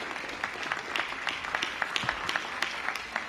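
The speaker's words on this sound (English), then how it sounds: "please give him a round of applause" A crowd applauds at a school ribbon-cutting ceremony for a modernized elementary school, a brief burst of steady, many-handed clapping at moderate distance.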